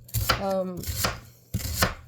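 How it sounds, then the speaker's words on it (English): A knife chops vegetables on a cutting board for a pot roast, giving several sharp, close strikes in uneven bursts with short pauses between them. "I'm just gonna chop it and get it into the thing"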